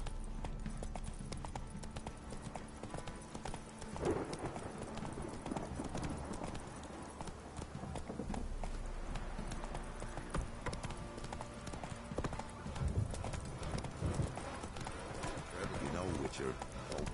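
A horse gallops at a steady, driving clip-clop throughout The Witcher 3 on PS4, hoofbeats loud and continuous beneath game voices and ambient sound.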